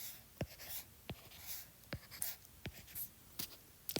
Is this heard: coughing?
no